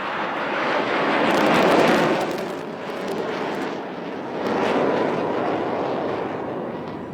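Indian Air Force military jet passing low at an air show in Chennai, a broad roaring wash that swells, dips and swells again as it goes by, loud and steady with no voices.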